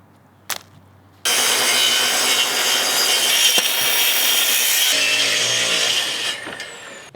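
A saw cuts through wood on a deck under construction, a loud continuous rasping that runs steadily for about six seconds after a brief knock, then stops abruptly.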